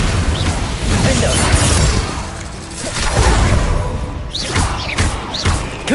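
A Vindo knockback spell impact in Hogwarts Legacy on PS5: a run of whooshing swishes and heavy thuds with crashing hits, several impacts in quick succession over a loud combat bed.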